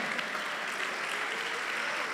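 A church congregation claps for God during a Spanish-language sermon on the family altar: a short burst of continuous, full applause with no talk on top.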